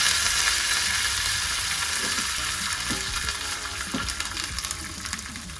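Curry leaves hitting hot oil for a pumpkin peel chutney tempering, a steady close sizzle and crackle with faint stirring, no voices.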